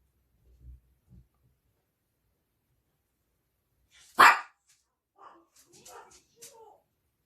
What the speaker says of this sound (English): sorry about dogs barking.